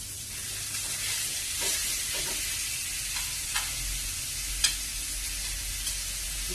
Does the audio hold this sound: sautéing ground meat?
yes